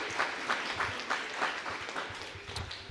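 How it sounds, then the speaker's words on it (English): At a school board candidate forum, a small audience gives a brief, faint round of clapping, individual claps audible in an uneven patter. "You can give him a round of applause after that"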